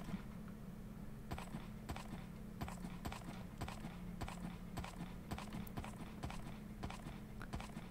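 Horse hooves clip-clop in the Minecraft video game, a steady run of crisp, regularly spaced clopping steps over a low hum, with no voices.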